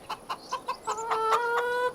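Chickens in the Farming Simulator 25 video game, a run of short rhythmic clucks followed by a longer drawn-out squawk, close and clear with no talk.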